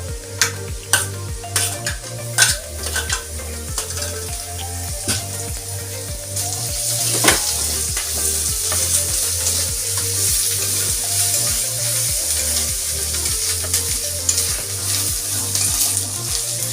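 Onions frying in a pan with ginger paste stirred in, steady loud sizzling punctuated by regular scraping stirs and a few sharp clatters, close and uninterrupted.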